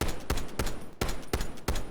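Rapid bursts of video game gunfire shot through a wall on the Nuketown map: about five or six loud, sharp volleys in quick succession, close and with no talking.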